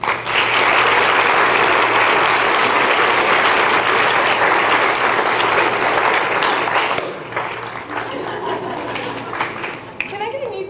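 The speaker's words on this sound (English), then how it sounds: "Our triangle soloist this evening, give her a round of applause, Miss Stacy Smith." Loud, sustained applause from a high school spring concert audience fills the room for a soloist, then thins out into scattered claps and murmuring voices.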